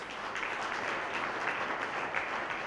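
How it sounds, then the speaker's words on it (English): Audience applause at the Best Employers India 2015 event for the participating organizations, a dense, even wash of clapping from a large crowd, heard at a moderate distance and sustained throughout. "final round of applause, ladies and gentlemen, for the participant organizations"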